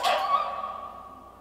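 A single sharp dog bark from the film War (2007), loud and close, then a short ringing tail that fades over about a second.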